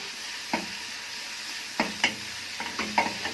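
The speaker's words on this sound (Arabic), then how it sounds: "الطشه بقى بتاع الملوخيه الجميله." Minced garlic sizzling in oil in a frying pan for molokhia, heard as a soft steady frying hiss broken by several sharp clinks and scrapes of stirring, close and fairly quiet, with no talking.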